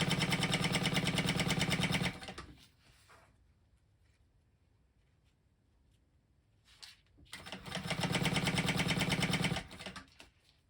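Two bursts of a sewing machine stitching a zipper panel, each a loud, close, rapid mechanical whir lasting a couple of seconds, separated by a quiet pause with light handling noise.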